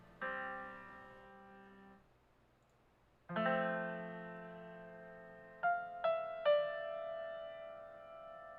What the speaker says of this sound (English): Some unquantized keys.